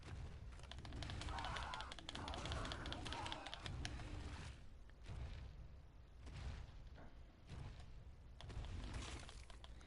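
Birds in the video game Ark honk and squawk in repeated bursts over dense game noise, a harsh, goose-like clamor rising and falling in waves alongside keyboard clicks.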